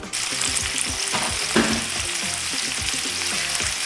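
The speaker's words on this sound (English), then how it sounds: "now I'm going to fry them down in the same grease that the sausage cooked in" Frozen okra fries in sausage grease, sizzling and crackling loudly and steadily up close, with a few stirring scrapes and no voices.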